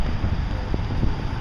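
Low, blustery rumble of wind buffeting the microphone outdoors, steady and fairly loud with brief gusty bumps throughout.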